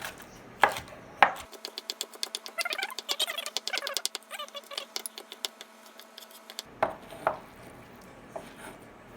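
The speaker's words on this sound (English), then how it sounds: "All right, let's give this a rough chop." A knife roughly chops food on a cutting board while lobster pizza is prepared, giving quick, close, uneven knocks in bursts with brief pauses between them and no talking.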